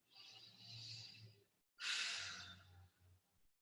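Two long, breathy exhales during a gentle yoga session, the second stronger and closer, separated by a short silent pause, with a soft trailing breath at the end.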